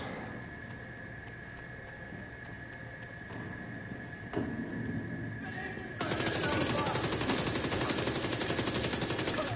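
Rifle fire in a video game, with a continuous stream of rapid shots at steady loudness that grows denser and louder toward the end, over a constant background hum.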